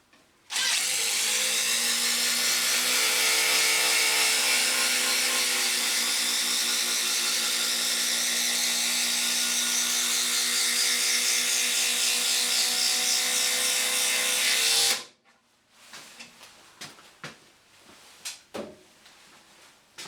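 A DeWalt DCF887 18V XR brushless impact driver drives a screw into timber: one loud, sustained, high-pitched whirring hammer burst of about fifteen seconds that stops abruptly, then quieter handling clatter.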